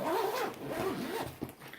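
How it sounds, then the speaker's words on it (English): The zipper on an official Disney pin trading storage bag is pulled shut, giving a close, scratchy, continuous rasp in several strokes, with no talking. "It zips up,"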